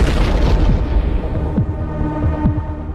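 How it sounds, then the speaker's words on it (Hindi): A missile strikes a road in Kyiv, heard from inside a car: loud, deep booming rumble with throbbing low surges and a few dull thuds running through the whole stretch, no voices. "कार के अंदर बैठे दो लोगों ने मिसाइल के गिरते हुए वीडियो को रिकॉर्ड किया"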